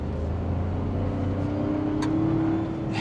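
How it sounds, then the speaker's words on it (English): A Toyota 4Runner TRD Off-Road Premium, 2026 model, revs its engine in sport mode, a steady, close, loud drone that rises slightly near the end with no talking over it. "So you got a little bit of that fun engine tone, a little bit sharper as well in the throttle response."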